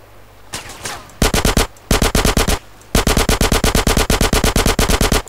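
Rapid automatic gunfire in the video game GTA San Andreas: three loud, close bursts of evenly spaced shots, each burst longer than the last, with brief pauses between.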